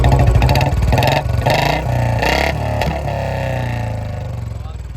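A Royal Enfield Bullet Standard 350 engine runs nearby with a steady, deep thumping idle and a few brief throttle blips, loud and continuous throughout.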